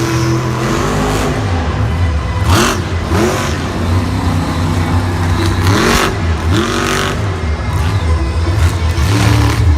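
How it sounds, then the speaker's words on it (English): El Toro Loco monster truck at a Monster Jam stadium event in Tampa, its engine revving repeatedly in loud surging bursts with a whistly, slightly off-sounding exhaust, steady and close with no talk. "this truck doesn't really sound too right. It's sounding a little too whistly for me, like there's something wrong with the exhaust"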